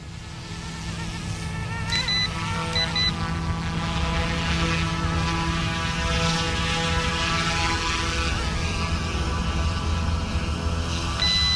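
A small F180v2 GPS RC helicopter lands in manual mode, its electric motor and rotor giving a steady, close, high-pitched buzzing drone that holds for the whole stretch and shifts slightly in pitch.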